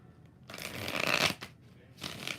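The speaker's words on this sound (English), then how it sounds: "Last shuffle." Tarot cards being shuffled by hand: a long riffling burst followed by a shorter second shuffle, close and crisp, with a few brief quiet murmurs around it.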